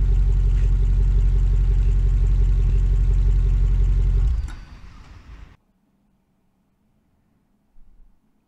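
A Jaguar F-Pace SVR SUV with a 550-horsepower V8 and its stock factory exhaust idles with a loud, deep rumble, then the engine cuts off and falls silent, leaving only a faint thump afterward.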